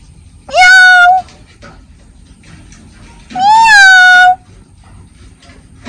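A cat meows twice, loud and close, each a drawn-out tonal cry about a second long, separated by a quiet pause.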